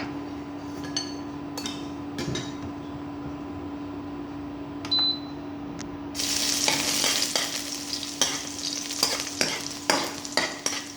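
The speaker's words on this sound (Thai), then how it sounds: "เราก็จะ เจียวกระเทียมก่อนนะคะเจียวกระเทียมให้หอมก่อนนะคะ" Garlic frying in hot oil in a pan for a Thai stir-fry of long eggplant and pork belly, a steady sizzle that swells louder midway, broken by sharp clicks and scrapes of stirring, with no talk.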